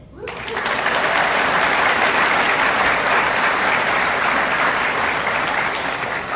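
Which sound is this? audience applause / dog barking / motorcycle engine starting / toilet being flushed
audience applause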